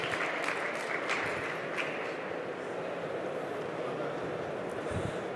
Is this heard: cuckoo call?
no